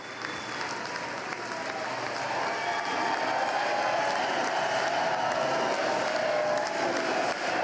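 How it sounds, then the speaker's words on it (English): A large audience at a State of the Union address breaks into sustained applause that swells and then holds loud and dense throughout, with a few faint cheers mixed into the steady clapping. "Give them another round of applause."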